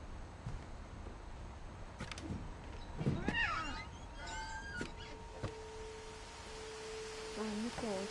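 A cat in the video game What Remains of Edith Finch gives a few short meows amid game sound effects, with soft thumps, chirping tones and sustained electronic hums.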